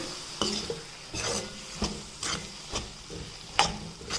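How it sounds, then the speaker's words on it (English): A bitter gourd side dish with sambar powder and jaggery is stirred in a pan, with repeated scraping strokes at an even rhythm over a soft background sizzle. "Then add 1 spoon of jaggery. Mix well."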